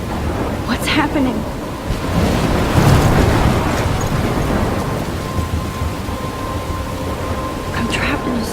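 A heavy game thunderstorm near a lighthouse: steady loud rain hiss with deep rolling thunder swelling midway, continuous and enveloping, with faint voice-like sounds mixed in.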